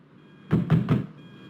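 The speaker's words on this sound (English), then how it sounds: "Ryan Gosling knocks on her door to coax her out" Three firm, evenly spaced knocks land on a door, close and clear, with quiet before and after.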